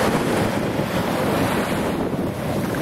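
Ocean surf rolls onto the beach at Estepona in Spain, a steady broad wash of breaking water mixed with wind rumble on the microphone, loud and continuous with no voices.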